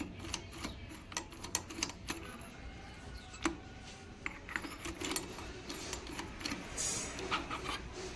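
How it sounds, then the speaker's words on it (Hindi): Bolts are unscrewed from the clutch cover of a Bajaj Pulsar 150 motorcycle, with quiet metallic clicks, ticks and light rattles of tool and hardware at close range, irregular and faint. "तो गाइज़, मैंने इसके दोनों बोल्ट लूज़ कर लिए हैं, ये मैं पूरा खोल लूँगा ऐसे।"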